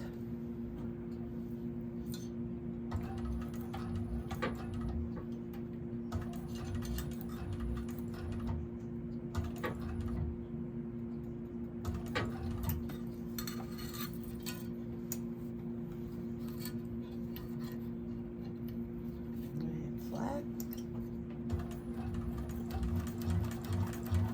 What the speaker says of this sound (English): I'm going to do top stitching, so I'm going to change my stitch length to 6